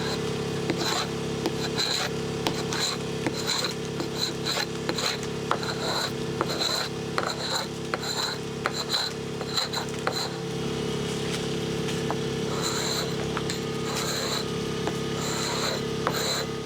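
Steel scraper pulling paint off wood, heard as steady, repeated rasping strokes in a close, even rhythm over a constant low hum, with no voices.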